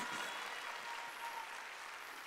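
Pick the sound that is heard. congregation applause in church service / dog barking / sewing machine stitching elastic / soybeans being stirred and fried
congregation applause in church service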